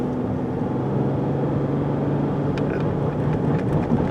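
Dodge Charger engine roaring steadily as the car accelerates hard from a stop, a loud continuous drone close by with no voices.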